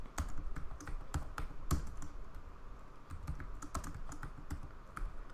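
Rapid, close clicking of keys as code is typed on a computer keyboard, irregular bursts of keystrokes over a quiet background, with no voices.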